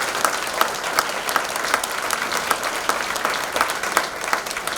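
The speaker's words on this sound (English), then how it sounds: "one more round of applause for this class of Hall of Fame members" A crowd at a university athletics Hall of Fame ceremony applauds its inductees, a dense, continuous patter of many hands clapping that holds steady and fairly loud throughout.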